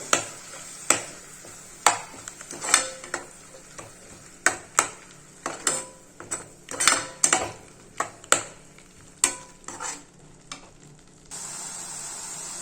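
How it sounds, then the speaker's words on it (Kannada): Ground tomato paste fries in oil in a pan while a spoon stirs it, knocking sharply against the pan about once a second over a low sizzle, then the knocking stops and a steady frying hiss remains. "ಇದಕ್ಕೆ ಟೊಮೆಟೊ ರುಬ್ಬಿಟ್ಕೊಂಡಿದ್ದಿಲ್ಲ ಅದನ್ನ ಹಾಕತ್ತೀನಿ ಇದು ಸ್ವಲ್ಪ ಹಸಿ ವಾಸನೆ ಹೋಗೋವರೆಗೂ ಫ್ರೈ ಮಾಡ್ಕೋಬೇಕು"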